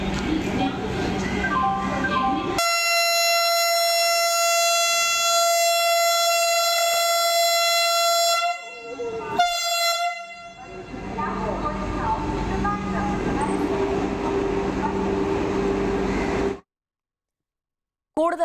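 A Vande Bharat train running between Tirunelveli and Chennai sounds a long, loud, steady horn, then passes with a rushing, rumbling roar before cutting to silence.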